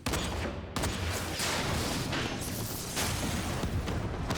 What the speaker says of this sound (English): he's gonna blow the whole thing up